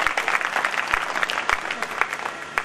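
An audience at a Swaminarayan temple katha gathering in Lunawada applauds to welcome Narayan Muni Swami, giving dense, steady clapping from a crowd of many hands across the whole moment.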